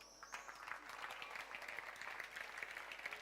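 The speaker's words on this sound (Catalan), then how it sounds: "Un aplaudiment, sisplau." An audience at a Catalan-language stand-up comedy contest final applauds, steady clapping from a room full of people, quiet and at a distance.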